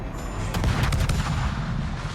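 A Z-46 destroyer in World of Warships fires armor-piercing shells, its guns booming in a tight rapid cluster of loud shots over a constant low rumble of engine and sea noise.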